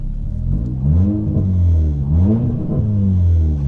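A 360bhp Revo Stage 2 Plus tuned VW Scirocco R engine is revved up and down repeatedly: a loud, close, deep throaty roar rises and falls in several swells with no talking.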